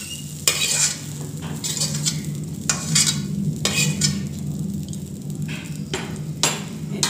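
Fiddlehead fern greens fry with a steady sizzle while a utensil stirs and scrapes the pan in repeated strokes, close and clear, with no voices.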